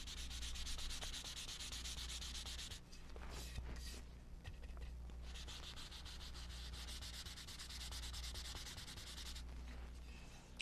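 Steady hand sanding to distress a painted craft surface, a continuous close scratchy rub that runs nearly the whole time with brief pauses and shifts in stroke.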